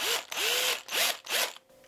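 Power drill boring an eye socket into a fishing lure body, three short whirring bursts that spin up and cut off, close and fairly loud, with a brief pause between each.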